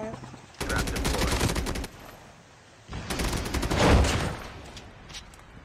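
Gunfire in a shooter video game: two long, loud bursts of rapid automatic fire separated by a short lull, the second ending in a heavier boom.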